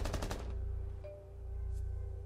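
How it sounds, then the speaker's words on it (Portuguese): Rapid automatic gunfire in the video game Rainbow Six: a loud burst of about five close shots in quick succession, then a low, steady ambient hum with no talking. "Você deu tiro no aliado, Alan."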